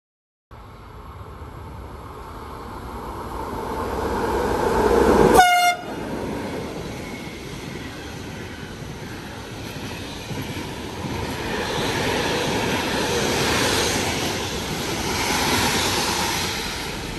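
A train passes through a station on platform 2 at Anzola Emilia, Italy: a loud rising rush that peaks with a brief horn blast near the middle, then a long steady roar of wagons rolling past.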